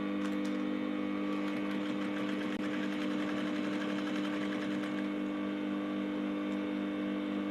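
A sewing machine runs without a break as it double-stitches thin corset boning, a close, even mechanical whir with a rapid needle rattle.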